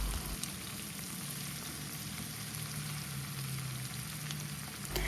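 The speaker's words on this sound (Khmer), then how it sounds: "យើងយកមកបំពងជាមួយឆ្អឹងជំនីជ្រូករបស់យើងតែម្ដង" Pork ribs frying in hot garlic-infused oil: a steady, close, crackling sizzle that runs unbroken for several seconds with no talking.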